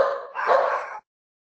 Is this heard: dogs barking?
yes